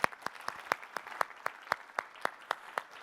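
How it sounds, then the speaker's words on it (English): A few people clapping at the Import Empire Summit 2015, a sparse round of distinct, evenly spaced claps in a regular rhythm, close by and moderately loud, with no voices. "let's give her a quick round of applause"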